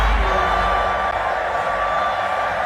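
Crowd of people screaming and cheering at a rap concert, a loud continuous roar of many voices with no breaks.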